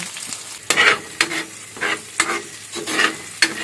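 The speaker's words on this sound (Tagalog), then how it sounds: "Nabutangan na ang kalaha sa mantika nya ato na dining ilunod ang atong panakot, ahos ra og sibuyas bombay." Garlic and onion sauté in hot oil in a wok, a soft sizzle broken by sharp spatula scrapes and stirring bursts that come roughly every half second, close and clear.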